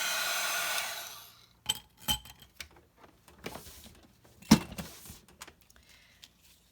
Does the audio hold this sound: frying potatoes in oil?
no